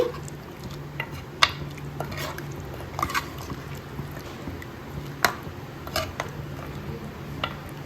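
A spoon stirs a spicy mutton head curry in a pot, with faint soft scrapes and occasional sharp clinks against the metal over a low background hum.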